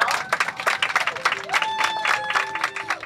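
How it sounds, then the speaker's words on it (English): A group of students applauds and cheers at a GeoFORCE program gathering, with lively clapping close by, whoops rising over it and voices mixed in. "Give yourself a round of applause."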